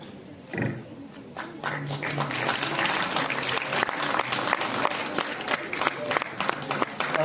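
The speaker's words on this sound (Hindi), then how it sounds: "प्रथम स्थान के लिए जोरदार तालियां हो जानी चाहिए" Audience at a Hindi theatre programme applauds a first-place winner, a sharp clap at the start swelling into sustained, dense clapping from a large crowd that holds steady to the end.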